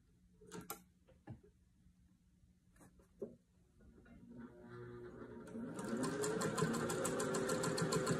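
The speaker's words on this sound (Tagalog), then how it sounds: "Doblehin ko yung tahi sa gilid, lalagyan ko na rin itong lace" A sewing machine stitches a pillowcase seam with lace, starting after a few scattered clicks and handling noises and then running in a fast, even mechanical rattle that grows louder toward the end.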